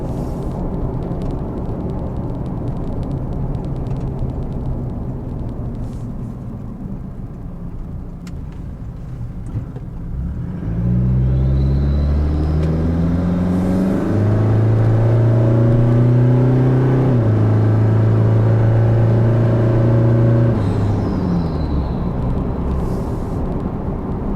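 Chevrolet Colorado diesel pickup fitted with a 42mm aftermarket turbo accelerating on a back road: engine note climbs steadily through rising gear pulls with a brief shift dip, loud and close over faint wind, no talk.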